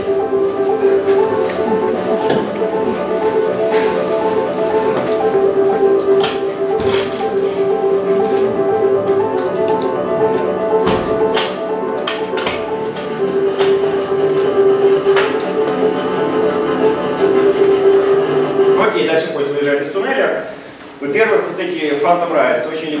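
An early film's train rumbles and clatters steadily on the rails with a sustained whistle-like tone, loud and close, before the sound briefly drops away near the end as it enters a tunnel, while a lecturer talks over it.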